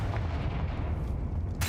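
Confringo fire spell in the Hogwarts Legacy video game, a sustained low booming blast rumbling steadily throughout, ending with a sharp bright crackle at the close.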